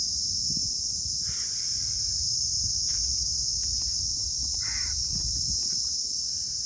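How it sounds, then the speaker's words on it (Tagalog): Crows caw now and then from the treetops above a beach, under a loud, steady drone of crickets or cicadas that fills the whole stretch, with a few other bird calls scattered between. "Dami ng ibon."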